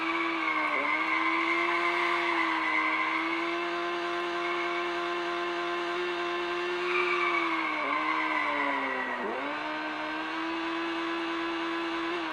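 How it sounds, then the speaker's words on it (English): Car in a Unity game demo cruising with a sustained, slightly wavering engine tone and tire squeals that dip in pitch as it skids, steady and loud throughout with no speech. "Wow, this car can cruise."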